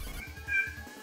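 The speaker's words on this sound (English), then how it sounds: "Why are you meowing at it?" A cat meows in the Phantasy Star IV video game, giving one short, close, fairly quiet electronic cry over a soft rhythmic background, with no speech.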